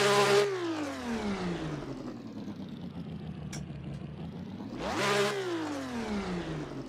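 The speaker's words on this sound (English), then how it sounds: "It sounds like a V12." A Ferrari 365 GTB V12 engine in the Assetto Corsa racing game, revving hard, dropping in pitch through an upshift, holding a steady drone, then climbing sharply again, loud and continuous.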